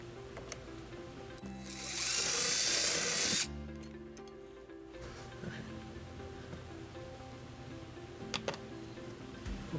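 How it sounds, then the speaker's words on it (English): A power drill bores a hole in a bumper bracket while a 2007 Mazda CX-9 gets a trailer wiring harness: a loud whirring burst lasting about two seconds, then quieter clicks and handling noise. "and then we're going to drill our first hole."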